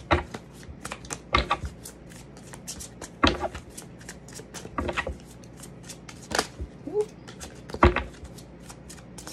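A deck of tarot cards is shuffled by hand, giving repeated sharp riffling bursts and soft slides at irregular intervals, close and fairly quiet, with no talk.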